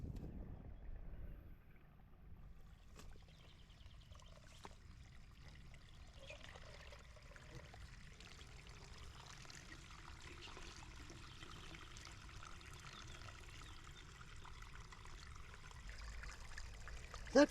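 Water pours and trickles steadily out of an overflowing muddy well, a continuous low wash of running water with no talk, holding at a fairly even level throughout.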